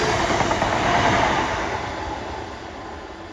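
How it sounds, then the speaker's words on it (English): A Class 802 train on the Stalybridge shuttle runs past with a steady rumbling roar that fades gradually as it moves away, with no voices. "Here's the 802 again on the Staley Bridge shuttle"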